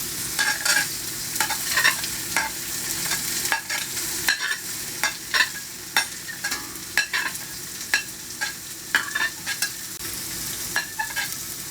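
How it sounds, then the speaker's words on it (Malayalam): Sliced onions fry in hot oil in a pan for Kerala-style ghee rice, a steady sizzle under regular scraping strokes of a stirring spoon, repeating roughly every second, with no voices. "അപ്പോൾ നമുക്ക് വറക്കാനായിട്ട് ഇട്ടേരുന്ന ഉള്ളി പരുവായിട്ടുണ്ട്."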